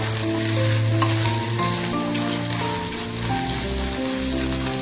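Dry fish frying in a pan for a village-style chutney: a loud, dense, steady sizzle and crackle close up, with light stirring throughout and no voices over it.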